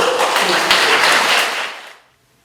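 Guests clap loudly for a newlywed couple at a free wedding ceremony held for a low-income couple with disabilities, a dense crowd of applause that keeps up for nearly two seconds before fading out.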